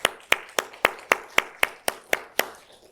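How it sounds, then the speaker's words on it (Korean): A church congregation claps together to celebrate four graduates finishing their training, a steady run of about ten sharp, evenly spaced claps across three seconds, fairly close and with no talking. "우리 축하의 박수로 함께 할까요?"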